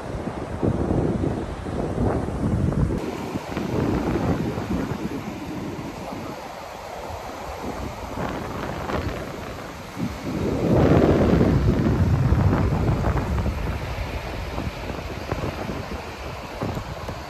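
Sea waves and gusty wind on the beach at Blankenberge, Belgium, a loud continuous roar of surf with heavy wind buffeting on the microphone and swelling rushes of breaking water, no voices.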